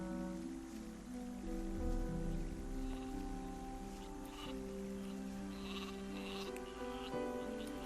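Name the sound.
sheep bleating in the video game Gothic 2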